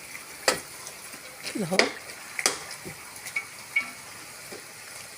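Chopped garlic and onion hit hot oil in a pot and sizzle while being stirred, with soft scraping knocks and brief clatters; someone talks briefly over the frying.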